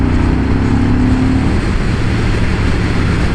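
A Moto Guzzi V100 Mandello S motorcycle pulls hard in fourth gear, its engine a loud, continuous close-up roar with a rising note early on and a steady drone after.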